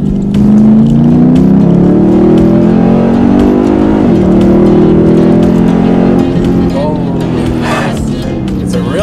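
Lexus IS F V8 engine revving hard during acceleration on a test drive, a loud, close, continuous rising roar with gear-change dips, heard from inside the car.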